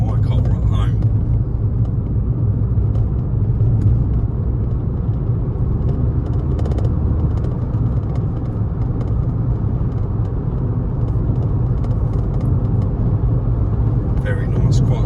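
A 2015 Ford Fiesta Zetec S with the 1.0 EcoBoost engine cruises along, heard from inside the cabin as a continuous low engine and road rumble, with faint rattles from a mounted tripod.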